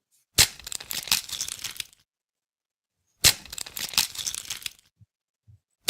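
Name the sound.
cracking an egg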